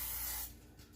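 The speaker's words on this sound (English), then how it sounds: "This is a non-stick pan, but I'm just going to spray the bottom a little bit." Cooking spray hisses in one short, close burst onto the bottom of a non-stick pan, then cuts off into quiet.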